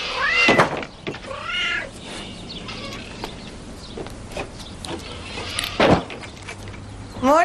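A cat meows several times, with a few short harmonic cries spread across the clip, some near and loud, alongside clucking fowl and a thump like a door.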